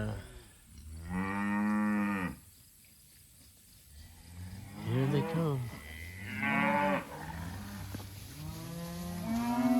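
Cattle in a paddock moo loudly several times, drawn-out calls coming close together with short gaps between them, and someone speaks briefly.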